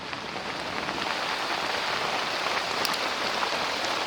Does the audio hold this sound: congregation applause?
no